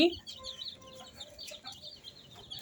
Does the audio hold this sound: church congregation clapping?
no